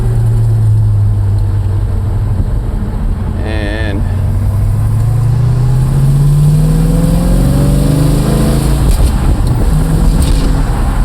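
A 1956 Chevrolet Bel Air 210 on a test drive, its engine loud and close as it pulls through the gears, pitch climbing steadily as it accelerates, with a voice speaking briefly.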